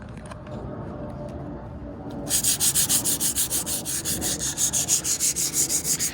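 Hand sanding on a truck body with 120 grit sandpaper: after a faint stretch, steady rhythmic back-and-forth rasping strokes start up close and loud, repeating evenly to the end.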